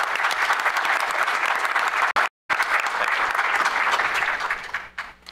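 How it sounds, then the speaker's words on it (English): Steady, dense applause from a crowd, with a brief gap of silence partway through, then clapping continues before tapering off at the end. "So let's give a round of applause to Professor South."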